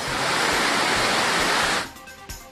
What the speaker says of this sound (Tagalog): lalo na ngayong magdamag na umuulan